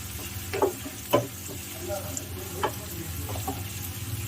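Dried red chillies sauté in hot oil for a tomato chitranna, a soft steady sizzle broken by a few sharp stirring clinks and scrapes of the spoon.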